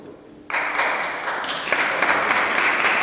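An audience bursts into applause after a Lent talk on faith. Dense, loud clapping starts abruptly and builds, then continues steadily to the end.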